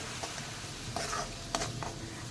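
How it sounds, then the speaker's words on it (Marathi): A spoon scrapes and stirs a tomato, garlic and ginger puree in a frying pan, a few soft strokes over a faint, steady sizzle of oil, heard up close and on its own. "आता हे घालून आपण हे छान ढवळून घेऊयात"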